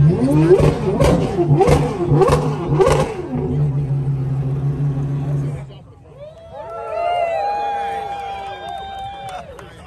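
A Pagani Huayra R engine revs hard several times in quick rhythmic bursts, loud and close, then settles into a lower idle. A crowd chatters under the revs, and people talk in the background.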